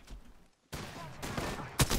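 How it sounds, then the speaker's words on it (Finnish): Video game gunfire: after a brief silent gap, a sustained burst of rapid shots and explosions, fairly faint, with a sharper crack near the end. "Mua ammutaan nytte."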